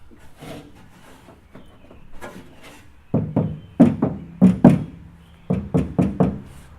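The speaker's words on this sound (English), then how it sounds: "what you hear rattling now is on the inner frame of the door" Loose parts rattling and knocking inside the inner frame of a car door, heard as a quiet stretch of faint taps followed by a series of sharp, close, hollow knocks in irregular bursts, with no talking.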